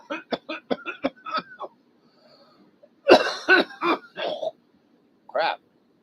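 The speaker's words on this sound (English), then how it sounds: "Let me cough a minute or two." A run of hard, harsh coughs from one person, coming in a quick cluster of several bursts and then a final single cough after a short pause, close and fairly loud with nothing else in the background.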